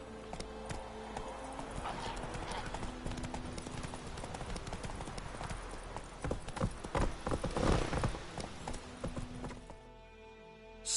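The horse Roach gallops in The Witcher 3, producing a rapid, steady clip-clop of hooves at a moderate distance that swells louder toward the end before dropping away.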